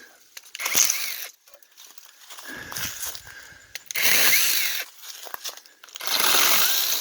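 Inokraft 4-inch mini battery chainsaw running in bursts, its high electric whine rising and cutting through small wood with crackling chips between pauses, close and loud.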